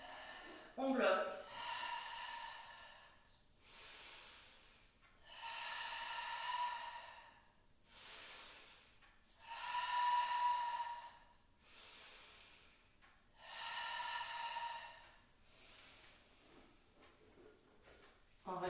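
Slow, deep breaths during a Pilates ball exercise, several long hissing inhales and exhales spaced a few seconds apart, close and soft, with a brief voice at the start.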